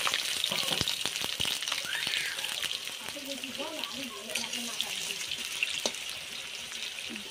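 Potatoes sizzle and crackle steadily in hot oil in a wok, a loud, continuous frying hiss with occasional clatters and a voice speaking briefly partway through.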